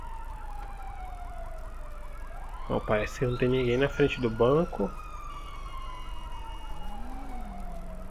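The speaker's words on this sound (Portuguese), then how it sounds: "Eu tô achando que essa sirene aqui é da polícia também, não?" A police siren wails in the video game GTA 5, rising and falling steadily through the scene while someone talks over it in Portuguese.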